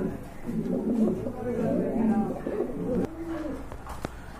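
Pigeons at a pigeon farm coo in low, throaty rolling calls close by, repeating through the stretch with a brief pause near the end, while someone talks over them.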